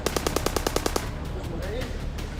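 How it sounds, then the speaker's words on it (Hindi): Rapid automatic gunfire during a Hamas attack on Ashkelon, Israel, fired from house windows: a burst of about ten sharp, evenly spaced shots lasting one second, followed by a noisy rumbling aftermath. "खिड़कियों से फायरिंग कर रहे हैं"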